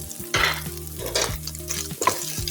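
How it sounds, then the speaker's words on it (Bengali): Egg, potato and onion fry together with salt and spices in a pan, sizzling loudly while being stirred, with repeated scraping strokes and bursts of crackle; no one speaks. "এখন সবগুলি উপকরণ ভালো করে একটু আমি ভেজে নিব"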